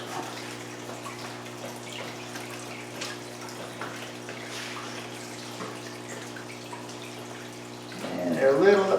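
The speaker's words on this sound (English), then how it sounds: "now I'm doing this in the middle of a water change" Water sloshes and runs steadily in a large 265-gallon fish tank holding oscars during a water change, a continuous wet wash that swells louder near the end.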